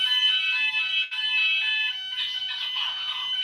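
A Vigilon fire alarm system sounder blares continuously and loudly, a steady electronic tone that holds for several seconds with a brief dip partway through.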